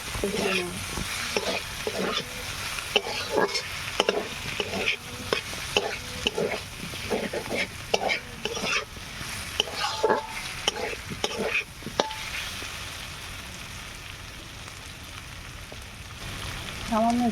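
Snail meat stirred into spiced potatoes in a hot pan, with steady frying sizzle and repeated rhythmic scraping strokes of a spatula, close and moderately loud, easing into a quieter sizzle toward the end.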